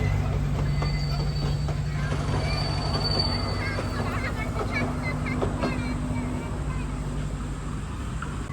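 A toy train runs through a tunnel at the Mysore railway museum, its wheels giving a steady rolling rumble and faint squeals beneath a background murmur of visitors' voices.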